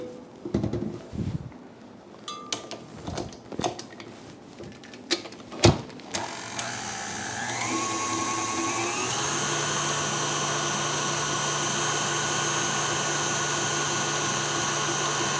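Electric mixer whirring steadily as it beats cream that is nearly turning into butter, a loud continuous motor whine after a few scattered clanks and knocks at the start.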